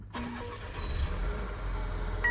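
A Mercedes GLB250 bought at auction starts up, its engine catching with a short crank and then settling into a steady, fairly quiet idle heard from close by.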